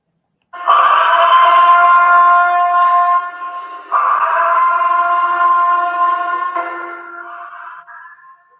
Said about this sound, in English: That siren, known by many from the movie The Purge, was not received well